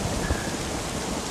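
Heavy rain falling at night in a small town, a loud dense wash of rain noise with a faint low rumble that may be thunder, steady throughout.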